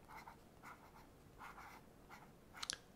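A pen scribbles in a notebook, several short, quiet scratching strokes in a soft, close rhythm, then a brief sharper scratch near the end, with no talking.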